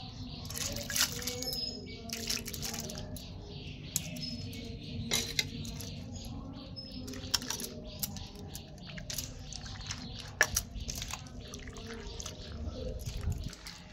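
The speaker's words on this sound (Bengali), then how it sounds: "আলুগুলোকে একবার ধুয়ে নিয়েছি, আরও 2-3 বার আমি ধুয়ে নেব, যেন আলুর গায়ে কষ না থাকে।" Potatoes are rinsed by hand in a bowl of water, giving soft, scattered splashes, drips and wet squelches. The sounds are close but quiet and irregular, and no one speaks.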